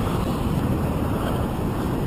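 Stormy surf breaking on a sandy sea shore: a steady, loud, continuous roar of churning water mixed with heavy wind buffeting the microphone, with no voices.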